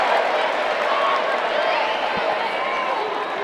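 Crowd cheering and roaring in a field house at a women's college volleyball tournament game, a loud, sustained wash of voices that stays steady and full throughout.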